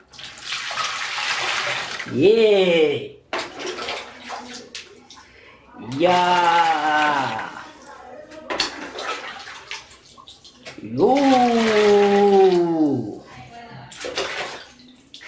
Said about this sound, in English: I will pour some water.